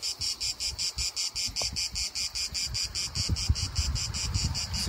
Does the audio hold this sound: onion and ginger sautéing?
no